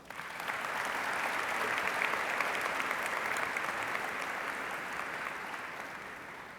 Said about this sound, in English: Let us all welcome the stars of today with a huge round of applause